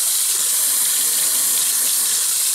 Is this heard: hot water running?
yes